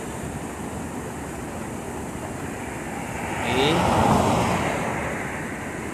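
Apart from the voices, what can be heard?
water flowing down a dam spillway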